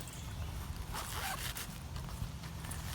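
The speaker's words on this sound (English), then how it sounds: "You've got their own zippers." Zippers on a ROM Outdoors pack's detachable bags are run open and shut, giving a few quick raspy zips over low rustling handling noise, close and moderately loud.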